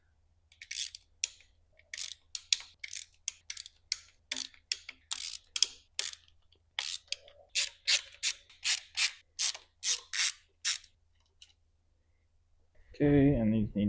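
A ratchet loosens the intake camshaft cap bolts on a diesel BMW X5, producing a close series of sharp clicking bursts with short pauses between strokes, ending in a louder clank.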